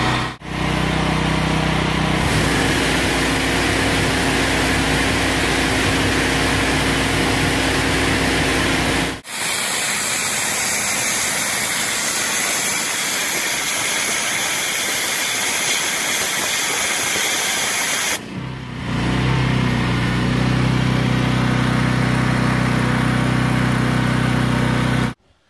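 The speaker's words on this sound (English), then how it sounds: "we're running the machine right now in hot water pressure wash mode" A Power Eagle hot water pressure washer runs at about 3,500 PSI with a loud, continuous engine drone and spray hiss, then shifts to a harsher, rushing steam hiss before the motor tone returns, with brief dips where the sound cuts.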